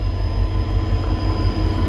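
A train rolls past a railway crossing, with a loud, steady low rumble and rail noise that fills the whole stretch close by and no voices.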